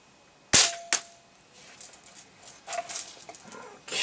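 One sharp gunshot cracks loudly at a spanking paddle target, followed by a quick second report and then faint scattered rustles and clicks.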